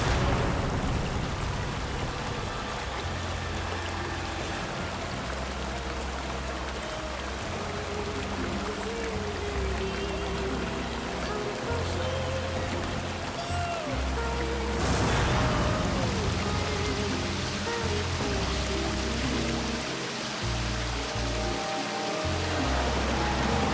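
The waterfalls near Jumma Patti send up a steady, dense roar of rushing water that runs without a break, mixed with low background music throughout.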